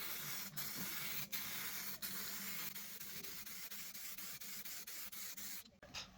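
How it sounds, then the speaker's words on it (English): An aerosol can sprays black or grey paint onto a scrap MDF offcut in a steady, close hiss. The hiss is broken by a few brief pauses and ends in a short stop near the finish. "Next, spray your piece black or grey,"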